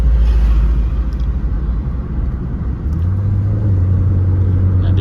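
On a steep, bumpy uphill climb, a Peugeot 308's engine drones low and loud inside the cabin, then settles into a deeper steady hum partway through as it shifts down a gear.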